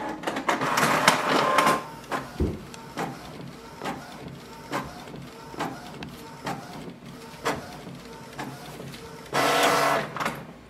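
Canon Pixma G4270 inkjet printer printing a nozzle check sheet after printhead cleaning: rhythmic mechanical clicks and regular print-head passes, with louder whirring feed bursts at the start and end, close up and alone.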